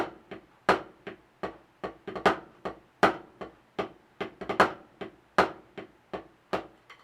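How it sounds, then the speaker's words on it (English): A snare drum played as a double paradiddle rudiment with three-stroke ruffs leading into the first note, giving crisp, close strokes in a steady repeating pattern of grace-note clusters and accented hits. "Double paradiddle, 3-stroke rough into the 1st note."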